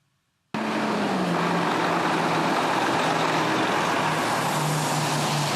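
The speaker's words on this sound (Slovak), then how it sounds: "Stovky kamiónov lemujú cesty v Sobranecku." Lorries lining roads in the Sobrance region, a loud steady rumble of heavy truck engines and road traffic that begins abruptly after a short silence and continues without pause.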